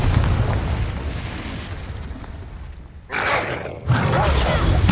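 Fiery spell blasts from the Confringo curse in the Hogwarts Legacy video game, a dense rumbling explosion that swells, drops off, then bursts again loudly near the end amid continuous low game noise.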